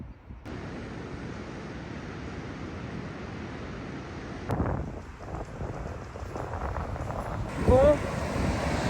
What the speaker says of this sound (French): nous allons nous balader à côté de l'océan